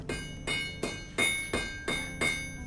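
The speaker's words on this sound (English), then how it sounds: "Should I use a lot of force with the hammer or?" A hammer strikes metal to shape a screwdriver, with seven evenly spaced, ringing blows at a steady rhythm, close by and without talk.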